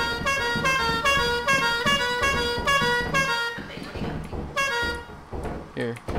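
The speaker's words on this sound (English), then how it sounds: "A horn, dude. This isn't even the air horn." A video game car horn honks repeatedly in short, brassy blasts while voices talk over it.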